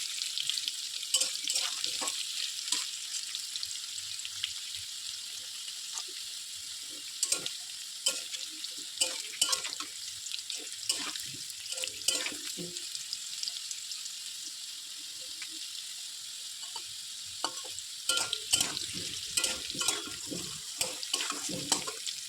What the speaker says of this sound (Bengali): আলুটা একটু লাল লাল করে ভাজা হয়ে গেছে, আর একটু ভেজে নেবো।